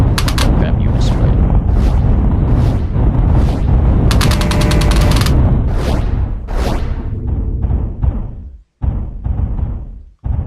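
Heavy enemy missiles launching in the space combat game Endless Sky, a loud continuous barrage of rapid bursts and booming blasts layered over dense game effects, thinning near the end.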